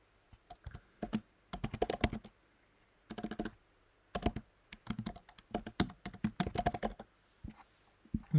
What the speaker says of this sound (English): we're going to type cout.